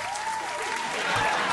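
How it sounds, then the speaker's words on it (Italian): Brief burst of audience applause greeting a joke, dense steady clapping with a faint hum underneath, moderately loud throughout. "Un applauso a Sara per la battuta."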